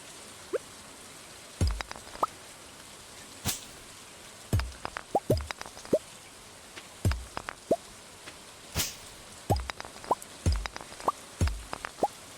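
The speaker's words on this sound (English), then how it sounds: "Smacking a rock in the rain." In Stardew Valley, a tool smacks a rock during rain, giving a dozen or so sharp separate knocks at irregular intervals over a faint steady patter of rainfall.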